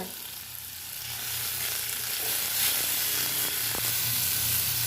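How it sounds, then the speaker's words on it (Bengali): Chopped onion with tomato and grated ginger sizzles steadily in a pan, a continuous close hiss of frying with a faint low hum beneath and no talking. "পেঁয়াজটাকে লাল লাল করে ভেজে নেব"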